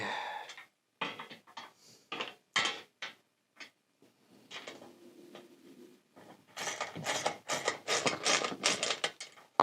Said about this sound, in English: I'm going to use a 10 mil ratchet and spanner